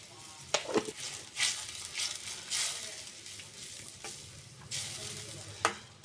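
Spice paste with turmeric and ground spices frying in oil for a spicy snakehead fish curry, a low steady sizzle broken by irregular scraping strokes and sharp taps of a spatula in the pan, nearby, no voices.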